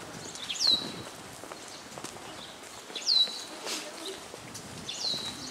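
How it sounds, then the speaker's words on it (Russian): Birds sing outdoors along a long path near a city square, short high chirping phrases repeating roughly every two seconds, fairly distant, over faint footsteps and ambient outdoor noise. "Птицы поют как."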